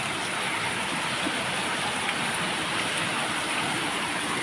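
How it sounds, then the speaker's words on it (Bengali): A steady, dense roar of heavy rain pouring down, constant and enveloping with no voices. "দেখো কি হারে বৃষ্টি হচ্ছে"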